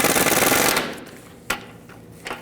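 Cover bolts on a 1999-2007 Chevy Silverado 2500HD idler arm are snugged down with a rapid, buzzing rattle of a power tool that fades, followed by a couple of sharp isolated clicks.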